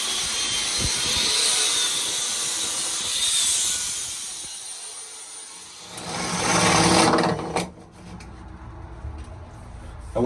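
Power drill boring a larger 1.5 inch hole in a boat during a livewell refit. Loud, steady whirring with uneven bursts, then a sudden stop, a short lower-pitched run and a cut-off.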